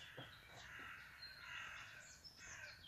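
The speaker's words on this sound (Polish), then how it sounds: "Ale wrony ganiają, krzyczą" Crows cawing in a garden after rain, several harsh calls spread over a few seconds, faint and somewhat distant, with no voices.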